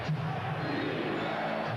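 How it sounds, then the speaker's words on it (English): During a 1996 NBA Finals game between the Bulls and SuperSonics, the arena crowd chants for defense, a broad, sustained roar of many voices from a distance, steady throughout with no announcer heard. "Chant of defense in the crowd."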